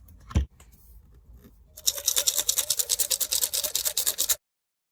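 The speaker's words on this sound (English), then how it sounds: "I'm going to put the lid on, we're going to give it a shake." Metal RC car screws from an HPI Nitro Star G3.0 engine are shaken in a lidded jar of low-odor kerosene. A single knock comes first, then a fast, steady run of loud, rhythmic rattling shakes for about two and a half seconds before it stops abruptly.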